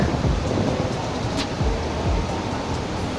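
Heavy rain pours steadily and loudly outdoors in a broad, constant wash of noise with no gaps, and no voices can be heard over it.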